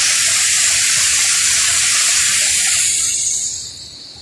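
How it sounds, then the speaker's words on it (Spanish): A waterfall at the Pimpilitu cascades in the Amazon rainforest pours in a loud, steady rush of water that stays constant, then drops to a softer roar near the end. "Otro salto de agua, un dique para nadar y disfrutar."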